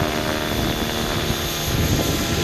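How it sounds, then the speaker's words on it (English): Steady, loud whir of a T-Rex 600 ESP 3G flybarless RC helicopter running on 12S power, its electric motor and rotor holding a constant pitch without bogging. "That motor doesn't bog at all."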